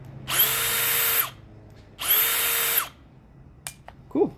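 A drywall screw gun with its tip engaged spins up twice in short, high-pitched whirring bursts about a second long each, separated by a pause, followed by a few faint clicks and handling knocks.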